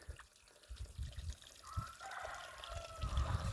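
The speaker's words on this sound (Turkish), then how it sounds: "Ve burada da çeşme, güzel çeşme akıyor." Water from a village fountain in Ardahan's Posof area trickles and pours steadily, a constant liquid stream heard at close to moderate distance with faint background noise.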